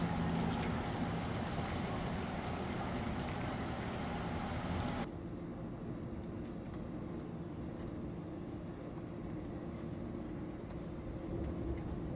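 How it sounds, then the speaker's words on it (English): Rain falling outdoors, a steady broadband hiss that lasts throughout, fairly faint, dropping slightly partway through to a softer, duller wash. "Really, I just wanted to film for the rain."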